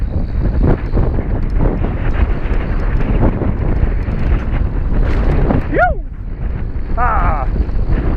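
Strong wind buffets the microphone during a mountain bike ride on the Blue Tier trails in Derby, producing loud, continuous low rumbling with brief whistling and voice-like tonal sweeps near the end.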